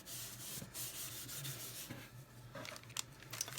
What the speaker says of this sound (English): get that embossing buddy and just rub it all over where you're going to be embossing